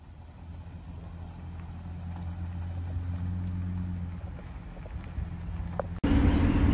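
A newly bought motorhome drives down the road, a steady engine and road drone with wind noise, building gradually before a sudden loud burst near the end.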